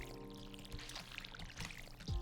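Crops are watered with a watering can in the farming game Stardew Valley, giving a faint pouring splash over quiet background tones, with a brief low thump near the end.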